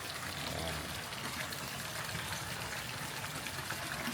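An artificial waterfall at Wat Chomphet temple in Vientiane, Laos, surrounded by decorative plants, gives a steady, even rush of flowing water that stays constant and fairly soft throughout.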